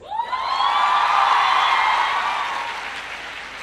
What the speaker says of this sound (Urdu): اور یہ تالیاں جو ہے نا وہ لڑکوں کی طرف سے زیادہ بجنی چاہیے